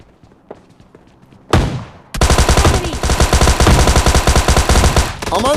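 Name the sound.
shotgun fire in PUBG Mobile Lite video game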